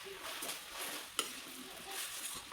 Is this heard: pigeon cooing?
no